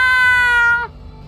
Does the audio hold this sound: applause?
no